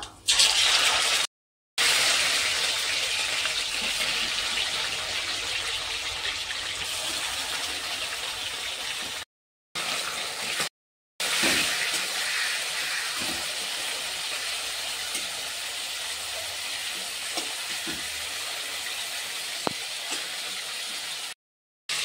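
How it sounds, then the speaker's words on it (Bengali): Marinated chicken dropped into hot oil with whole peppercorns for a Gandharaj lemon-leaf chicken stew, hissing in a loud, steady sizzle that breaks off briefly a few times, with faint clinks over it. "ম্যারিনেট করা চিকেনটা ওই তেলের ওপর"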